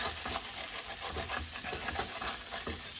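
A spatula scrapes steadily across the bottom of a non-stick pan with a crumbled vegan filling, giving a continuous raspy scraping and stirring under a soft sizzle, close and fairly quiet.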